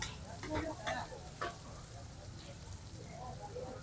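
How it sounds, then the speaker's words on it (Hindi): Soft sizzling and crackling of chilies frying in hot oil, fairly faint, with a few louder pops early on amid background murmur. "ये लो दोस्तों, मिर्च का तड़का लग गया।"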